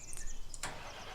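Tractor engine cranking and catching in Farming Simulator 19, a short starter whir followed by a burst as the motor fires, then settling into a low, even idle.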